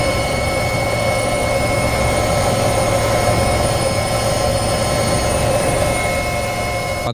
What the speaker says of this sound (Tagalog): Paglapag ng eroplano sa deck.